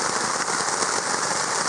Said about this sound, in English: time to wait this rain out